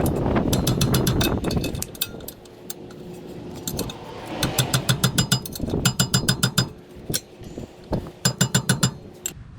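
Ratchet wrench tightening a bolt during a rear brake job on a 2002 Lexus SC 430: rapid metallic clicking in repeated bursts, close and loud, with short pauses and some clinking of tools, no talking.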